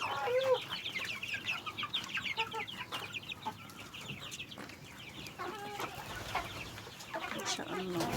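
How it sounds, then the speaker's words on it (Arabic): Chickens clucking and squawking at a crowded poultry market selling pigeons and domestic and local breeds, a dense mix of close and distant clucks and calls with background chatter. "حمام موجود، فراخ موجودة، هندي، بلدي، جميع انواع الطيور موجودة"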